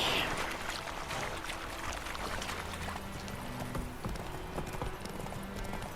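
Steady clip-clop of horse hooves at a trotting rhythm in the video game The Witcher 3, moderately close, with faint background ambience and no speech.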